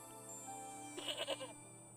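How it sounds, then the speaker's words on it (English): Goat bleating in the video game Broken Sword: one short wavering bleat rises midway over a steady, faint game ambience, with nothing else happening around it. "Why is there goat noises?"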